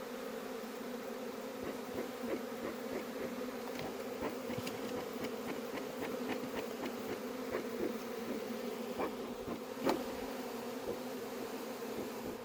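A honeybee colony hums steadily inside a hive at a Cuban apiary while the beekeepers search for a queen, a close, even drone with individual bees buzzing past now and then.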